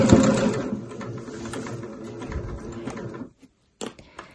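A sewing machine runs steadily for about three seconds as it stitches around the top edge of a kid's tote bag, then stops, followed by a couple of brief mechanical clicks.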